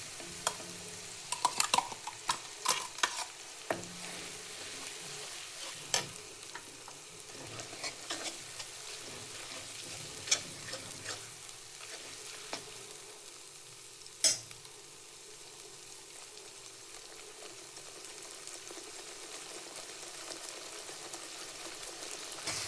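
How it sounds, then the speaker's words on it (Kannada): Ground onion paste frying with ginger-garlic paste in a pan for capsicum paneer chicken masala: a soft, steady sizzle, with clinks and scrapes of stirring near the start and now and then, no talking. "ಅದನ್ನು ಶುಂಠಿ ಬೆಳ್ಳುಳ್ಳಿ ಪೇಸ್ಟ್ ಒಳಗೆ ಹಾಕಿ ಫ್ರೈ ಮಾಡಿ."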